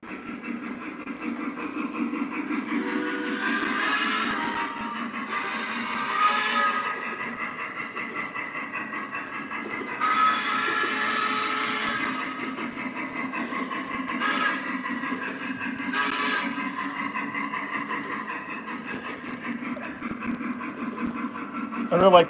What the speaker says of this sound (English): Here comes the Tuscan K4 now.